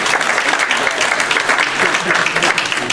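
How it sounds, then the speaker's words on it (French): Clapping from a church congregation during a French-language service, broad and sustained throughout, close and fairly loud, with some voices mingled under the applause. "est-ce qu'on ne lui donne pas une main d'applaudissement en partant?"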